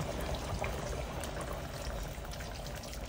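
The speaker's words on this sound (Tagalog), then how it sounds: "Lagyan natin siya ng tubig." Water pours steadily into a pot of pork ribs and belly, a continuous splashing gush that stays fairly loud and even throughout, with no talking.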